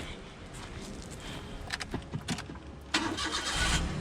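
A dirty rental car in Mauritius cranks and its engine starts, a burst of starter noise followed by a steady, close idle.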